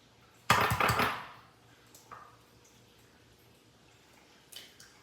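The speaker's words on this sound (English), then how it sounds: "I'm going to crack the egg and drop it right inside the egg separator" An egg cracked and dropped into an egg separator over a bowl, a sharp crack and wet splattering burst followed by faint drips and a soft later tap, quiet otherwise.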